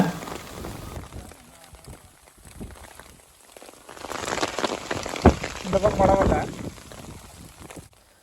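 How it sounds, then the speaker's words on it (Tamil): Heavy rain falls at an outdoor palm tree planting site, a continuous hiss that swells louder midway through, with a person speaking over the downpour. "மழை வந்து நல்லா ஹெவியாக வர ஆரம்பிச்சிருச்சுங்க"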